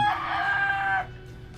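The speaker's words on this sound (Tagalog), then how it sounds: "Pati yung mga manok dyan" A single rooster crow rings out close and clear for about a second, then fades into quiet background.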